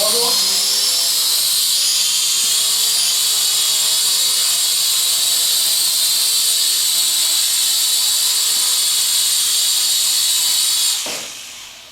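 A Syma X5SW quadcopter drone hovers close by with a loud, continuous high-pitched whine of its small propellers, steady throughout before cutting off abruptly near the end.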